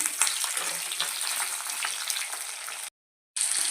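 Onions fry steadily in hot oil in a pan for a Telugu tomato-onion chutney, a continuous close sizzle with light crackle, cut by a brief silent gap before resuming.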